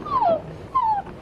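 A dog whimpers twice in quick succession, two thin, close, high-pitched whines with a short pause between them.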